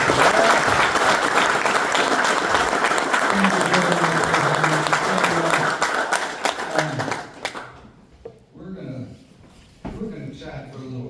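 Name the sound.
audience applause at pinball seminar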